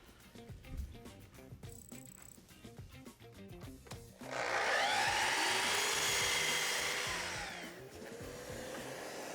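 A Festool Kapex miter saw cuts a wooden board for an outdoor table build, its loud whining blade rising sharply and holding for several seconds before winding down, after quieter handling knocks and clamp sounds.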